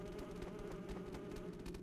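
Steady insect buzz in Demon's Souls, a continuous droning hum that holds for the whole moment with slight flutter, fairly close and alone without any talk.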